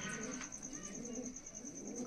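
Faint, soft cooing of Malwai pigeons kept for sale, low rhythmic calls repeating against a steady high-pitched background hum, no voices.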